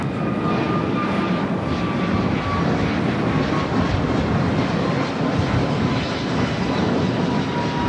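A Boeing 777 jet at LAX roars steadily and loudly, a dense low rumble that holds evenly with no break for the whole stretch.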